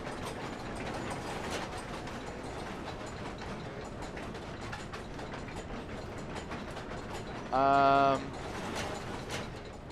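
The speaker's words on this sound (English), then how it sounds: "The 2 levers control the noisy machine." Noisy lever-driven geared machine in the sewers of the video game Amnesia: The Dark Descent, a steady fast mechanical rattle of ratcheting gears running throughout, with a brief louder tonal grinding whine late on.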